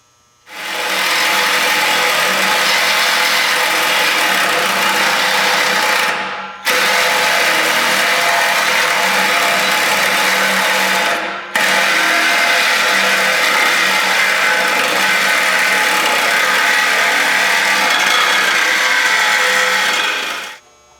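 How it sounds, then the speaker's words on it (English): A Sawzall reciprocating saw cuts through the exhaust pipe at the muffler of a 2000 Chevrolet Silverado 5.3 V8. It gives a loud, harsh, sustained metallic buzz in three long runs separated by brief pauses. "use a Sawzall, cut the other end off as tight as I can get to this muffler"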